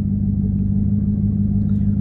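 A Jeep Trackhawk idles with a steady, deep engine rumble that stays even and loud throughout, with no talk over it.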